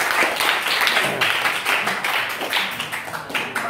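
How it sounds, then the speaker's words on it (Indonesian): Audience applause fills the room at a steady, dense level for several seconds, a close, even crowd of clapping hands with no pause. "Baik, kasih aplaus saja."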